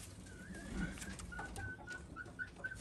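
A pigeon in a loft of pure-bred birds coos softly in a short series of low, repeated calls, faint and fairly close against quiet background noise.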